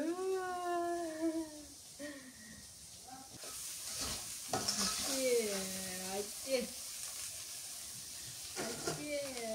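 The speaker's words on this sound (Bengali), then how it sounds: "মশলা কষানো হচ্ছে" Spices sizzle and hiss as they are stirred and fried in a pan, a steady close frying noise with scraping stirs, under frequent talking voices.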